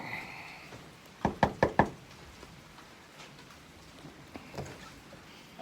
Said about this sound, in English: Let's go ahead and knock.